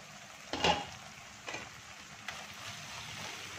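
Tomatoes cook in oil in a pan with a low, soft sizzle, punctuated by three or four brief stirring scrapes, close and fairly quiet, with no voices.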